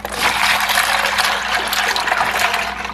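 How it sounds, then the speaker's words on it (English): Cold brine, with melted ice, is poured into a bag holding chicken, a close, loud, continuous splashing gush of liquid lasting a few seconds without speech. "Pour it in the bag with the chicken."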